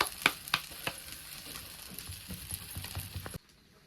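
Thalipeeth flatbread roasting on a pan, giving off a steady faint crackle and sizzle with a few sharp ticks and scrapes near the start. The sound cuts off abruptly just before the end.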